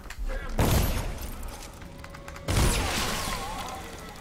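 Two sharp gunshot blasts about two seconds apart in the Dishonored: The Knife of Dunwall game, each loud and close and followed by a ringing decay, with background game ambience in between.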